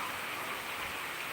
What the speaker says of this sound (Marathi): बघा पाऊस झाला चालू